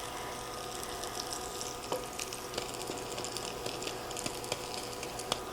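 Yellow squash fritters frying in oil in a pan on an induction burner, giving a steady close sizzle scattered with small pops and crackles.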